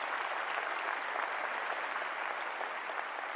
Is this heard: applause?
yes